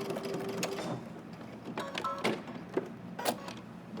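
A home sewing machine stitching along the pocket bag of a jacket, tacking the welt down, runs in short uneven bursts with clicks and pauses, close and moderately quiet, with no talking.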